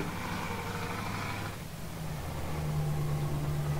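Steady low engine drone of a heavy truck in Euro Truck Simulator 2, idling and rumbling at moderate volume with no talk.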